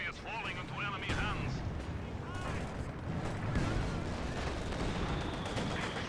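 Mortar fire from a captured mortar team in a Company of Heroes 2 match booms amid a dense, continuous din of battle: gunfire, explosions and rumbling from start to finish, with voices mixed in.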